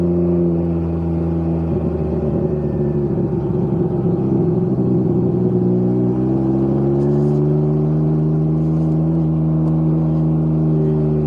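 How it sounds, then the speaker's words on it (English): Loud exhaust of a Can-Am Ryker three-wheel motorcycle under way, a deep continuous droning rumble with a shift in pitch partway through as the rider accelerates, close and constant with no talk. "My God, this exhaust is so loud."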